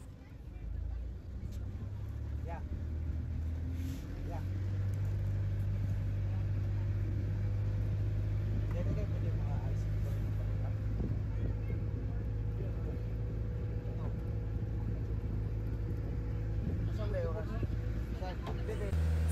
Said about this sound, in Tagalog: nag-start na yung engine sa lancha na sinasakyan namin